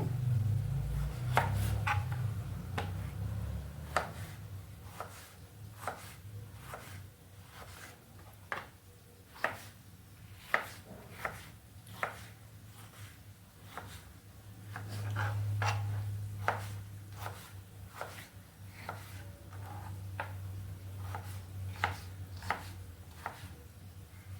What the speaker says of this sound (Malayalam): അപ്പോഴേക്കും നമുക്ക് തക്കാളി അരിഞ്ഞെടുക്കാം.